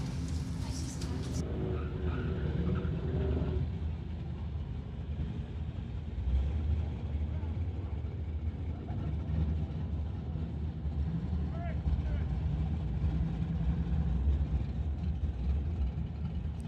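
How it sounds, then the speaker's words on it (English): A Corvette and a Dodge Challenger at a street-legal drag strip, their engines making a steady rumbling drone with a rising rev near the start, heard under continuous commentary. "Corvette in the TCS lane and the Dodge Challenger in the Lordco lane"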